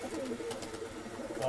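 A pigeon at a bird sale in Bangalore gives soft, low cooing in a short run of murmuring notes, close by, over a faint background hum.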